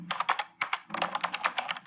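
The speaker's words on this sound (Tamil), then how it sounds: "இப்போ நம்ம ஃபஸ்ட்டு போகக்கூடியது அந்த கீபோர்ட் டைப்பிங்" Keyboard typing, a quick run of crisp, close key clicks in an uneven rhythm with one brief pause, played alone.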